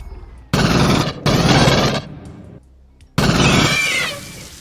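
Gunfire from weapons in the video game Alien Trilogy comes as three loud close bursts of rapid automatic fire separated by short pauses, the last one trailing off with a ringing, screechy tail.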